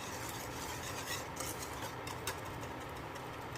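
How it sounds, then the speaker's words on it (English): Brown sugar and salt being whisked together in a bowl for donut bread pudding: a steady, close scraping and stirring rasp that runs continuously, with no talk. "Make sure you whisk everything around."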